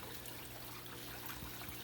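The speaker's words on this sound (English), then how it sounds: "I'm kind of happy that the water's flowing again." Water runs steadily from a small waterfall in a home aquarium tank, a soft continuous trickle and splash that stays faint and even throughout, with no voices over it.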